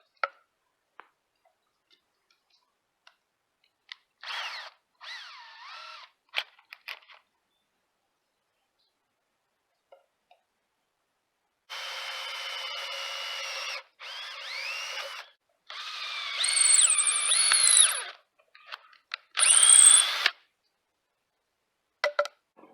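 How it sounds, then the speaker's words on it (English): Short bursts of a small power drill whirring as it bores a pilot hole, starting and stopping several times, with brief clicks and quiet gaps between runs. "That'll help serve as a pilot for the bigger drill bit."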